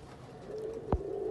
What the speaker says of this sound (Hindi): ये 35 वाले और चूहे कबूतर हैं